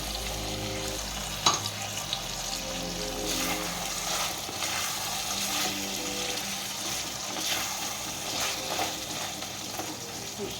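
Tomato paste sizzles and spatters steadily in hot oil in a pan, a continuous close frying hiss with a sharp clatter near the start and occasional stirring scrapes, no voices.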